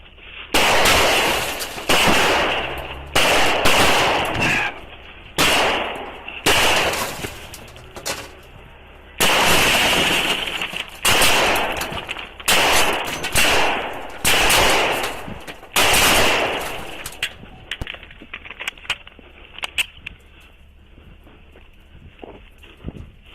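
Repeated gunshots fired at an Arkansas sheriff's deputy during a roadside encounter, loud sharp bursts in rapid irregular volleys over about fifteen seconds, then tapering into quieter scattered sounds.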